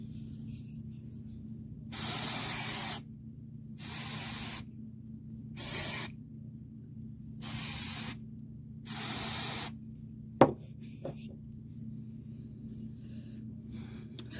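Five separate bursts of hair spray aerosol hiss onto hair, each about a second long with short pauses between, followed by a small tap and faint handling noises over a low background hum.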